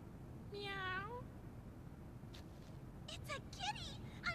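A cat meows once clearly, followed by a few shorter, higher mews, all fairly quiet against a low background hum.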